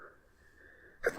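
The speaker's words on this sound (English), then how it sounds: "Oh, pardon me, sneezing." A single short sneeze bursts out at the very end after a near-silent stretch, close to the microphone and fairly loud against a quiet room.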